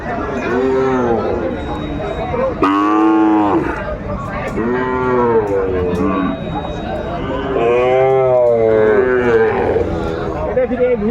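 Sahiwal cattle at the Aftabganj livestock market in Kurigram moo loudly and repeatedly, long drawn-out calls following one another close by with little pause, under a busy market background.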